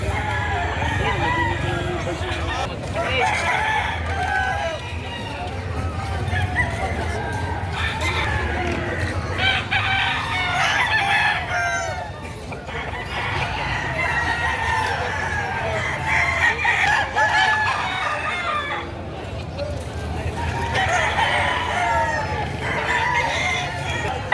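Roosters crow repeatedly amid clucking chickens at a poultry market in Padre Garcia, Batangas, a busy flock heard close with a low background hum and people talking faintly in between.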